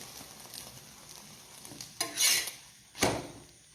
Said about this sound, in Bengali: এখানে দেখো আমি ভেজে রাখছি।